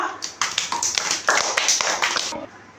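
A group of young children at an anganwadi centre clapping for a classmate: a couple of seconds of close, lively, slightly ragged applause that starts abruptly and stops together.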